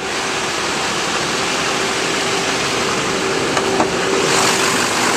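A 2008 Chevrolet Silverado 2500 pickup's 6.6L diesel engine idles steadily and smoothly with a constant broadband rumble and a faint tonal hum, unchanging throughout, no voices.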